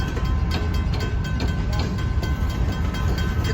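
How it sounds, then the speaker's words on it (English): An Ann Arbor Railroad grain train passes nearby at State Street, a steady, loud rumble of rolling freight cars with faint rhythmic clatter throughout. "Is the train switching over or no?"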